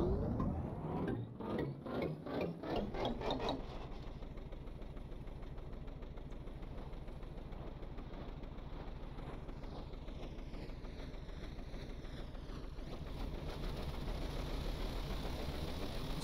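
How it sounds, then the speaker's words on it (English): Engine loaded by a propeller, a steady mechanical drone that settles into a lower, less strained tone after a rhythmic pulsing start, running continuously throughout. "So you hear the engine's not screaming as much. That's because I'm loading it up."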